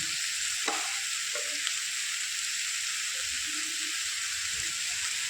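Curry leaves and tomato chutney sizzling steadily in a pan, with a bright continuous hiss and a few soft clicks as the mixture is stirred, close by with no talking.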